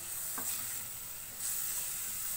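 Finely chopped onion frying over low heat in a pan for mixed vegetable soup, giving a soft, steady sizzle with a brief stir near the start.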